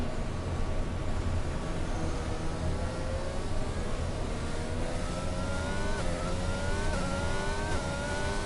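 Formula 1 cars race down a long front straight at the Mexican Grand Prix in a racing video game, with several loud, continuous engine whines climbing steadily in pitch through upshifts and layering over one another, and no talking.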